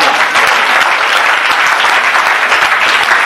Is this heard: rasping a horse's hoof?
no